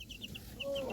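Chickens softly clucking nearby in short repeated high calls, faint and brief, with a thin drawn-out note near the end.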